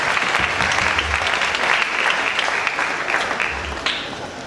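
Sustained applause from a convocation audience honouring a university deputy vice chancellor, steady and loud for several seconds with no talk over it, thinning slightly toward the end.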